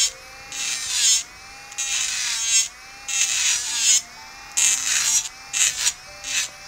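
A Soorxien electric nail file drill grinds on polygel nails in repeated bursts of high whining buzz, each stroke lasting about a second with brief pauses between, close and fairly loud.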